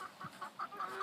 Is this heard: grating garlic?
no